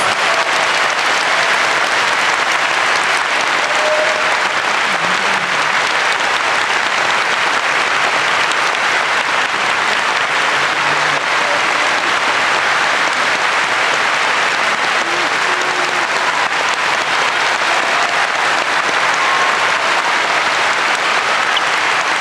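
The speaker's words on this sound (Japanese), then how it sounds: "どうぞ皆様大きな拍手をお願いいたします。" Sustained, loud applause from a large crowd at a sumo wrestler's retirement and topknot-cutting ceremony, a dense continuous wash of clapping throughout with faint voices underneath.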